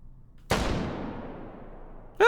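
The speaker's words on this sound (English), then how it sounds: "200 meters, and let's try to shoot offhand" A Tankgewehr anti-tank rifle is fired offhand at a 200-meter range. A single sharp, heavy report rings out and then fades in a long decaying tail, followed by a brief sound at the very end.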